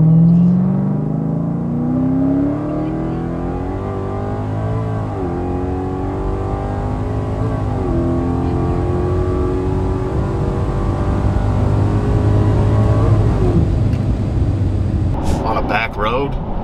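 A 1111whp 2023 Dodge SRT Super Stock accelerates hard, its engine note rising steadily through the gears as a loud, continuous roar heard from inside the car, with talking underneath.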